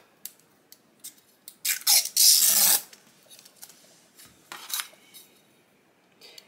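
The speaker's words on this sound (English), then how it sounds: "They come with like a little blue cover on the front of them. So we're just going to go ahead and peel that off." Blue protective film peels away from a sublimation bookmark in short, close, raspy tearing bursts, with one longer louder strip near the middle and light scratchy handling between, without any talk.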